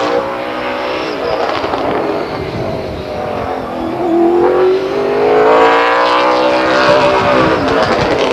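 Number 8 race car, the Pinella Motorsports Special, laps Stockton 99 Speedway, its engine note droning then rising and falling as it passes, loud and sustained with revs climbing through the lap.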